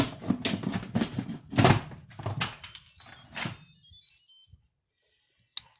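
Clunking and knocking as the lid of an Instant Pot is put on and closed, followed by the cooker's short, faint electronic melody of rising beeps, then quiet apart from one last tap.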